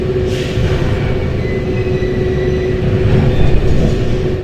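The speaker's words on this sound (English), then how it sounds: "the train I'm on edges forward 1 metre and then stops" Inside a fully automated Paris Metro Line 4 train creeping forward about a metre before stopping: a loud, steady low rumble with a faint high whine, close and continuous.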